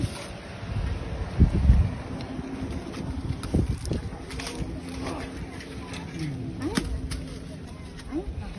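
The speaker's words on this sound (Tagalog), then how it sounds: "Ang sarap ng hangin." Wind gusts buffet the microphone in a steady low rumble during persimmon picking in San Diego, California, with a few soft thumps and bumps mixed in.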